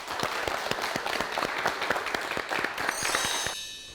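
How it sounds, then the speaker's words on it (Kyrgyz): Studio audience applauding at a televised family game show, a steady wash of many hands clapping at close range, fading slightly as a bright musical tone enters near the end. "Кол чабуулар."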